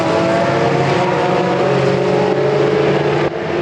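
Supercars, including a McLaren and a Lamborghini, race at the Zolder circuit, producing a loud, continuous engine roar that holds steady and dips slightly near the end.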